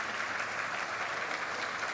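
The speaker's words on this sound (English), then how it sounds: "I think you deserve a round of applause" Dense, even applause from an audience at a health and care policy conference, sustained and unbroken with no voices over it.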